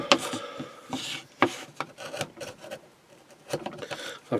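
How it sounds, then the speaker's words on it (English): Light hand sanding of a scrap-wood domino stand: irregular rubbing and rasping strokes, close and fairly quiet, with uneven rhythm and brief pauses between passes. "Always give it a light sanding anyway."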